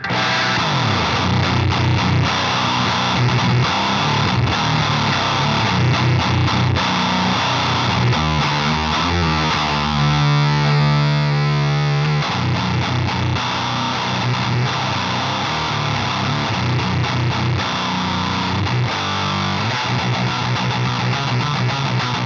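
An electric guitar runs through a Marshall Valvestate 8100 amp with an HM-2-style distortion pedal, every knob at maximum, giving a dense, saw-toothed roar of sustained chords that holds loud throughout the clip with a brief ringing note midway.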